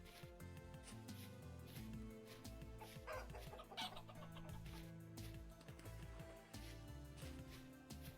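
A chicken clucks in the survival game Vintage Story, several short clucks scattered over a steady backdrop of layered game music and ambience, moderately close and clear.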